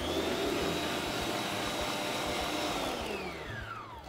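Yogurt being mixed into a date and toffee cake batter gives a steady whirring hum that winds down in pitch near the end, fairly faint and unbroken, with no talk.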